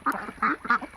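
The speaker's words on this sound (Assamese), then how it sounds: "চাওক এইবিলাক হাঁহ।" Farm-raised ducks quack in a few quick, loud bursts close by, with short pauses between calls and no talking.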